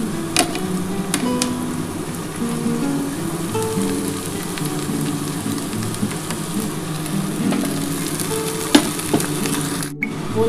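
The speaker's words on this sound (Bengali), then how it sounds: "এবার আমি কলমি শাকটা দিয়ে দিচ্ছি।" Water spinach (kalmi greens) fries in a pan seasoned with black cumin, giving a steady close sizzle with occasional light clinks and scrapes and no voices.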